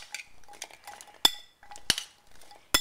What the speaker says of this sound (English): now I'm going to add the carrots. That's 2 cups of baby carrots.